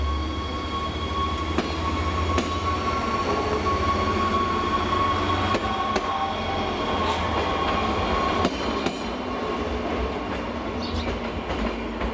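A Slovak Class 840 railcar pulls away from a station on a secondary line toward Poprad, giving a steady rolling rumble with scattered clicks and metallic rail knocks, continuous and fairly close, with no talk.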